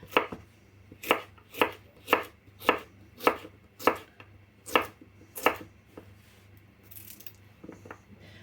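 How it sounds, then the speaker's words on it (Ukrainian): Cucumbers are sliced into small rounds on a board, about ten crisp knife chops in a fairly regular rhythm, close and distinct over a quiet background. "І тепер огірки буду нарізати маленькі кружалочками."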